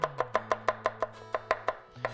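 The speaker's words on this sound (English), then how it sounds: "I'm just gonna slice this garlic while our" A knife slices garlic cloves on a cutting board with about eleven crisp, evenly spaced chops, close and clear with no talking, while ghee heats nearby.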